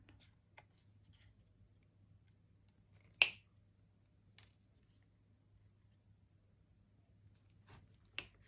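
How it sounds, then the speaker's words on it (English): Scissors cutting down long craft pieces, heard as a few faint, isolated snips and clicks against a quiet room hum, with one sharper cut standing out in the middle and another near the end. "I almost always have to cut them down"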